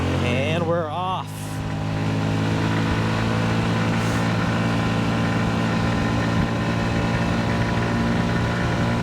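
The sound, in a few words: Honda Ruckus scooter engine running while riding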